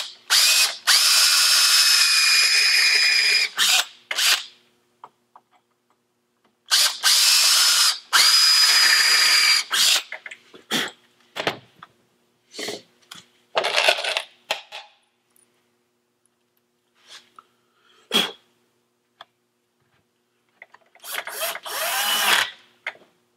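A power drill whirs close and loud in several bursts, driving screws home into melamine with short pauses and small clicks between runs.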